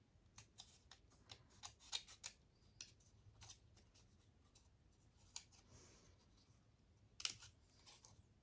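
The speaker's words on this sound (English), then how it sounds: "I'm going to cut out the frame." Scissors cutting out a paper frame made from painted papers: a quick series of close, crisp snips and rustles, some louder than others, with a short pause midway and no talk.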